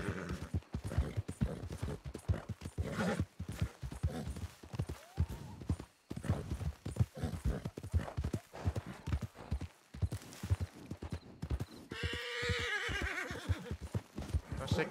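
Horse hooves clip-clop at a gallop in a western role-play video game, with loud neighs and whinnies breaking in near the end over a steady rhythmic beat.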